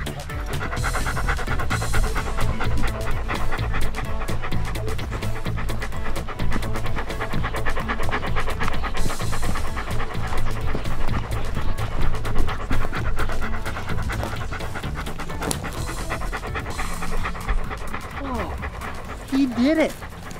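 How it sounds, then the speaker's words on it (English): A police dog pants rapidly and steadily for about twenty seconds, a close, rhythmic breathy huffing under a constant background. "send in the canine."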